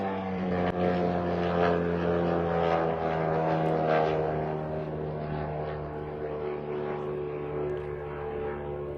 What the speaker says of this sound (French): C'est le moment où l'on entendait les drones arriver pour attaquer les raffineries russes à Leningrad.